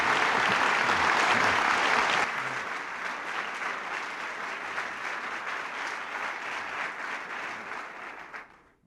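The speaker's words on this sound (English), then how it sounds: "I think George and I should be applauding you" An audience at a presidential speech applauds loudly for about two seconds, then the clapping eases to a steadier, softer ovation before dying away.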